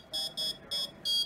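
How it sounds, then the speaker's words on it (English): Electronic buzzer on a hobby circuit board, driven together with an LED, sounding four short, shrill, evenly spaced beeps up close with brief silent gaps between them. "The light's working and the buzzer sounds good."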